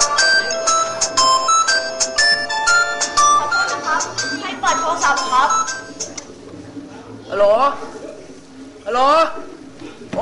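A mobile phone rings with a bright, repeating melodic tone during a Bangkok theatre performance, loud and insistent, while voices speak over it and around it.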